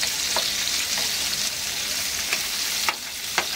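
Two medium onions, sliced lengthwise, fry on a high flame with a dense, constant hiss and occasional soft stirring knocks that stay loud and close throughout.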